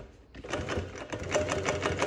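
A double needle sewing machine stitches in a fast, steady mechanical rattle, starting abruptly after a brief quiet moment and running continuously at close range with no voices.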